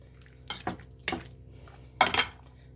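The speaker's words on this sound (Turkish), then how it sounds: "şöyle yoğurdumla bunları bir karıştıralım bütün malzemelerimizi" Potato salad with peas, corn and yogurt being stirred in a bowl, giving a few separate wet clinks and scrapes of a spoon against the bowl, close and moderately loud with quiet gaps between them.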